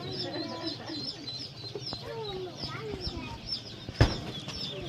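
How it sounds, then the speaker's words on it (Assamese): Local chicken chicks cheeping in a rapid, high-pitched chorus of overlapping peeps, close by, with a single sharp thump near the end. "একদম অৰিজিনেল লোকেল মুৰ্গী পোৱালি।"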